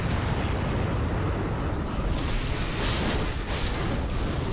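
A boss unleashes an explosion attack in Bloodborne: a dense, roaring blast that fills the whole clip with loud, sustained rumbling and crackling debris, peaking partway through.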